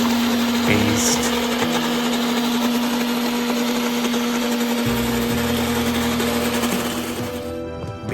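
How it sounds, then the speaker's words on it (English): A kitchen blender grinds chilies and cumin seeds into a paste, a continuous steady motor whir with a strong hum, shifting slightly in load before winding down near the end. "Place everything onto a blender, then blend into a fine,"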